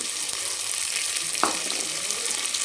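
Finely chopped onions, three large ones, sizzle steadily in hot oil in a pan for a dhaba-style egg curry, with a brief scrape of a spoon stirring midway.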